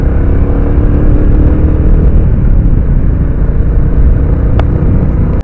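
A Royal Enfield Classic 350 motorcycle ridden fast toward Tamhini Ghat, a loud, close, continuous engine rumble mixed with heavy wind buffeting, steady throughout with no talk and a brief click near the end.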